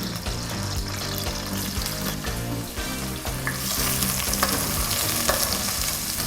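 Onions frying in hot oil while being stirred, a loud, dense sizzle running throughout with spatula scrapes and a background of low tonal hum.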